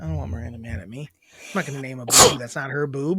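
One sharp sneeze bursts out between stretches of close, relaxed conversation among a small group, loud and sudden before the talk carries on.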